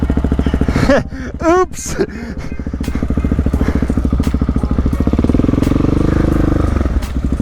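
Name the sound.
supermoto motorcycle riding off-road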